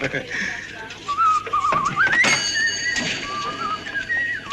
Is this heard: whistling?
yes